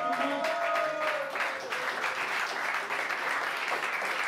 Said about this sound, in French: On peut déjà l'applaudir pour l'encourager un petit peu.